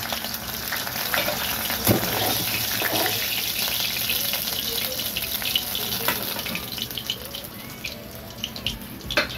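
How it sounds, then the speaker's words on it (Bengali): Hilsa fish heads, halved, fry in hot oil with a steady close crackling sizzle and scattered sharp spits and pops, continuous without any talk. "এবার মাথাগুলো ভেজে নেবো"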